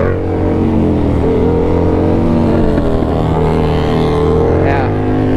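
A Yamaha XSR motorcycle engine revs loudly and steadily close by, its pitch rising and falling with the throttle, with a voice briefly audible over it.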